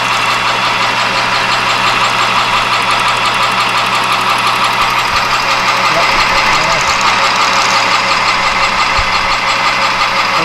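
A back chamfer is machined inside an improved umbrella bushing for a patio table, using a boring bar. A loud, steady mechanical drone holds evenly for the whole stretch, with a few faint knocks.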